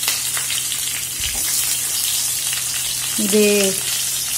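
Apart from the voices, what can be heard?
shallots frying in a pan for aviyal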